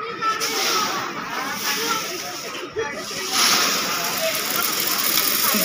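Feet swish and slosh through water at a botanical garden in Chandrapur, a close, continuous watery churning with small splashes, while people talk over it.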